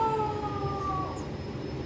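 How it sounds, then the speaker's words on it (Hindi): A dog howls outdoors with a long, wavering, drawn-out tone that fades over about two seconds, fairly distant and alone without voices. "देखो वो कुत्ता भी ओ कर रहा है"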